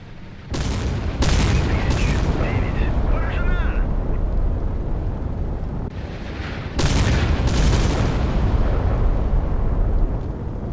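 Missiles streak in and blast apart in the naval combat game Sea Power, a dense run of heavy booms and rumbling impacts with sharp bursts that recur and stack up, while a voice talks underneath throughout.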